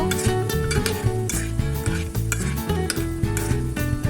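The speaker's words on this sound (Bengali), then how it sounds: "এইভাবে সবগুলোকে লাল লাল করে ভেজে নিব" Pieces of madan katkati dough frying in hot oil, a loud continuous sizzle and bubbling with repeated clinks and scrapes of a metal utensil against the pan, close up with no talking.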